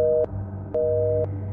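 A telephone busy signal after dialing 911: a steady two-tone beep sounds three times in even on-off pulses, close and clear over a low hum, with no talking.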